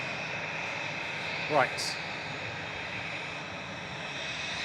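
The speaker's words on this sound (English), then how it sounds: "There's Air Transat, which just landed." An Air Transat airliner just landed at Manchester Airport gives a steady, moderately distant jet-engine roar that holds evenly throughout, with one brief spoken word midway.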